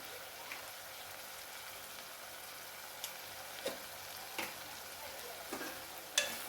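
Chili powder, cumin and pepper fry quietly in a pan for chicken curry, a soft steady sizzle broken by a few light clicks of stirring.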